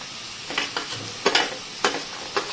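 Vegetables (cauliflower, potato, carrot, ivy gourd, capsicum) tossed into a hot pan for a vegetable pulao: soft sizzling with about six sharp stirring scrapes and clinks spaced roughly half a second apart, fairly quiet, no voices.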